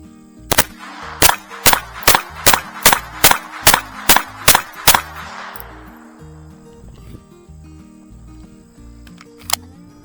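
An FN502 pistol fired rapidly, about eleven sharp shots in quick, even succession, followed by a quieter stretch and one more distant-sounding crack near the end.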